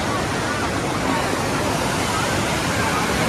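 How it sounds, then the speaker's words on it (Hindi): A steady, dense roar of rushing water from Baruasagar waterfall fills the scene, broad and constant with no pauses, heard up close. "काफ़ी सुंदर सा झरना है।"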